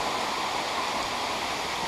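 A waterfall at Baskins Creek Falls on a hot July day roars as a constant, broad rushing wash of falling water, close and steady with no voices over it.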